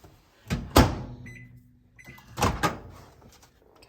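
A microwave oven door opens and shuts with two sharp clunks close by, and quiet beeps and faint handling noises come between them, with no talk.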